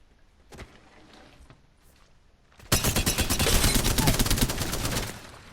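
Gunfire in the Apex Legends video game: after a few faint isolated clicks, a loud sustained automatic burst of rapid, evenly spaced shots lasts about three seconds, then stops.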